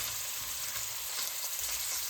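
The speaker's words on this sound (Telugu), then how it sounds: "ఇవి గోల్డెన్ బ్రౌన్ కలర్ వచ్చేంత వరకు బాగా వేపుకోవాలి మనం ఈ నెయ్యిలోనే." Cubes of paneer fry in hot ghee until golden brown, giving a soft, even, continuous sizzle that stays faint and close throughout, with no voices.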